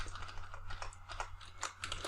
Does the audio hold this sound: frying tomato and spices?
no